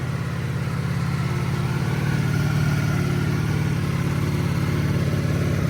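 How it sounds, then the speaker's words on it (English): A 2023 Ducati Panigale V4S idles after a cold start in 2-cylinder mode, a loud, steady, throbbing low rumble with an even pulse held close throughout. "So this is a cold start in 2-cylinder mode."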